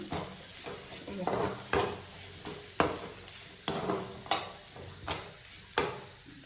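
Grated coconut being stirred in a pan with a spoon, giving rhythmic scraping strokes roughly once per second over a soft background sizzle.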